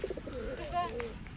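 Pigeons in a pigeon-keeping community in Teluk Bintuni, West Papua, give soft throaty coos, a few rolling calls close by, with a person talking at the same time.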